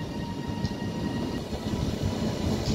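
A train rolls into Doncaster station on the East Coast Main Line with a steady, close rumble and faint high whine, no voices present.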